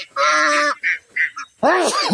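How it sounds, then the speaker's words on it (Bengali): Ducks on a Barisal duck farm of about 350 birds let out several loud, close quacking bursts in quick succession, with short gaps between them and a harsher, longer call at the end. "কি পরিমাণ হাঁস রয়েছে আপনারা দেখেন।"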